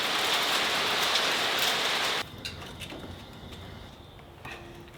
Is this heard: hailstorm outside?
yes